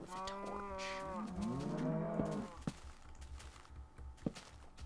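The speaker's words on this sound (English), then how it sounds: "Screw off, cow." A Minecraft cow lets out a couple of long, low, wobbling moos up close, followed by a few soft thumps like footsteps in the game world, with a voice talking faintly underneath.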